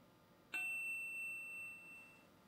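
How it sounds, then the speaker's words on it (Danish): A phone chimes once with a bright, sustained notification ding for an incoming text message, ringing out clearly and fading over about two seconds with no voices. "Så er der kommet en sms."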